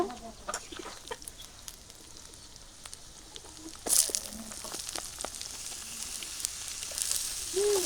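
Star fruit goes into a pan of frying shrimp and onion. A faint, soft sizzle runs throughout, with a brief louder hiss midway and scattered light clicks.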